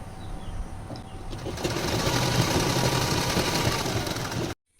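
Sewing machine top-stitching a silk blouse, a steady mid-level mechanical whir that grows louder and denser midway, runs continuously, then cuts off abruptly near the end.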